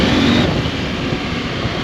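A KTM 890 Adventure R motorcycle accelerates out of a corner, its engine roaring loud and close over heavy wind rush, with no talk.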